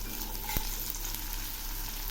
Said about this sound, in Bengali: পেঁয়াজগুলো ভাজা প্রায় হয়ে আসছে